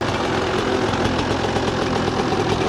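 Yamaha YZ 125 two-stroke motocross engine running loud and close, a steady crackling, rattling idle with no voices over it.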